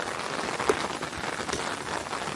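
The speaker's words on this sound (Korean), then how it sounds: "비가 주룩주룩 내리고 있습니다" Steady rain pours down outdoors at a farm field, a continuous close patter of drops with no voices.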